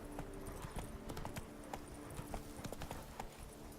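A horse named Roach, ridden in The Witcher 3 video game, clip-clops in a quick, even trot. The crisp hoof strikes sit over a steady low game ambience.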